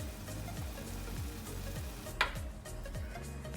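Beef noodle soup bubbles in a pot on the stove, a soft steady simmering sizzle with repeated low pops and one brief clink, quiet and close.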